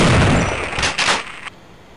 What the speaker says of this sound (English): I shot you in the face with a shotgun